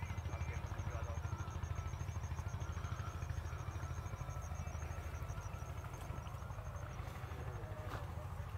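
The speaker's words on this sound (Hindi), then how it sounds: "ये एक ट्रैक्टर ट्रॉली में गन्ना भराई का काम चल रहा है।" Tractor with a trolley idling in a village field during sugarcane loading, its engine giving a steady rhythmic low chugging throughout, moderately near and fairly quiet, with faint clatter and a voice talking over it.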